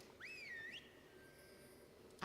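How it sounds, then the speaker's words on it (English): A whistle in World of Warcraft Dragonflight gives one rising then wavering tone lasting about half a second, with a thin steady note trailing after it and a short sharp sound at the very end. "Use the whistle."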